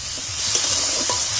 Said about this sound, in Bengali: হালকা হালকা ভাজা হয়ে গেছে,